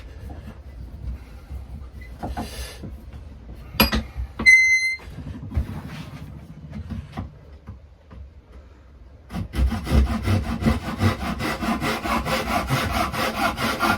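A handsaw cuts a scrap of timber freehand, starting after scattered knocks and handling noises with a steady run of rhythmic rasping strokes that continues close up and fairly loud to the end.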